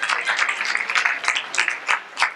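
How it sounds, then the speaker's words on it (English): Audience applause at an event in the nation's capital, a short round of clapping from a modest crowd, fairly close and steady for a couple of seconds. "Yes, yes, round of applause, great moment."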